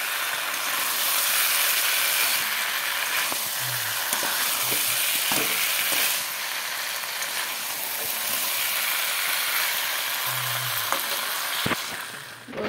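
Chicken is stir-fried with spices in a pan, producing a long, dense, close sizzle with intermittent scraping and clinking of a spoon, and a couple of short low hums in between.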